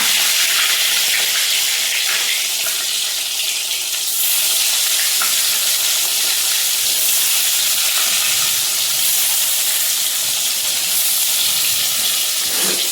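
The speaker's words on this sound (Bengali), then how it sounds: "চলো বন্ধুরা, বেগুনটা ভেজে নিই।" Eggplant slices fry in hot oil in a home kitchen, producing a loud, continuous hissing sizzle with steam that holds steady throughout without any talking.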